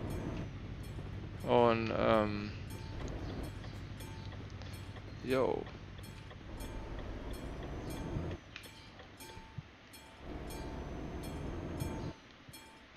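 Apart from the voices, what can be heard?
train passing in Euro Truck Simulator 2 video game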